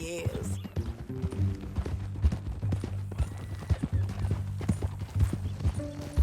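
Horse hooves clip-clop in a steady walking rhythm in the Red Dead Redemption 2 video game, close and distinct, layered over sustained musical tones with voices in the background.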